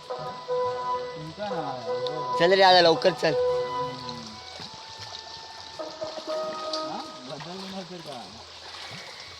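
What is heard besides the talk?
rain falling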